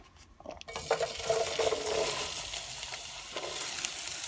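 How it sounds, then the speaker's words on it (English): Onions dropped into hot cooking oil in a sufuria burst into a loud, steady sizzle that carries on throughout, with occasional clinks from stirring. "Let's put in the onions."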